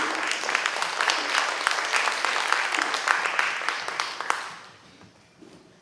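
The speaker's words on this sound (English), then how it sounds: "Let's give applause to Easton and Leo." Audience at a school international carnival bursts into strong applause for two performers; the clapping stays loud and even for about four seconds, then quickly tapers off to quiet.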